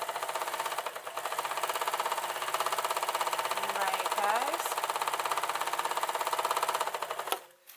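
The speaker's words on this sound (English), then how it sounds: "I have an overlocker, I should use it really. So, let's just come down. This is the sole of the foot." An overlocker serger stitches the sole of a fancy Christmas stocking, a steady rapid mechanical whirr with a close, even rhythm running for several seconds before stopping abruptly.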